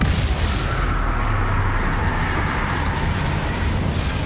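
Spell blasts and explosions from the Hogwarts Legacy video game form a dense, continuous roar of booms and rumbling impacts, loud and unbroken, with no voice on top.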